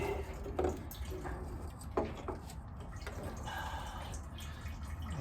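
Gasoline drains from a removed Mazda RX-7 fuel tank as a steady trickle with occasional drips and splashes, fairly faint and close, with no voices.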